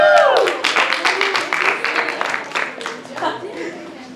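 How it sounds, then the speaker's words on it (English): A colloquium audience claps in a burst of separate hand claps that thins out over a few seconds, with some chuckling and talk underneath. "You guys clap for like the slightest things."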